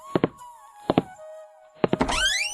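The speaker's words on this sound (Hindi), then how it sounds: "दरवाजे की कर्कश आवाज" In a haveli horror story, three pairs of dull knocking thuds are followed by a short, harsh, rising creak of a door swinging open, close and fairly loud, with no voices.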